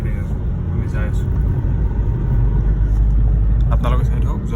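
A car travels through rain on the road from Nalbari to Kokrajhar, heard from inside as a steady, loud low rumble of engine and tyres, with a voice occasionally talking over it.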